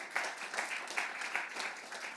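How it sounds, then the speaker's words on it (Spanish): A church congregation applauds, fairly faint and somewhat distant, with steady overlapping clapping through the short stretch. "Un aplauso al Señor"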